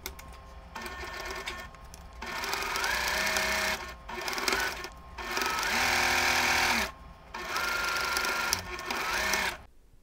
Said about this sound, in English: Now I'm going to sew the cuff to the body of the stocking.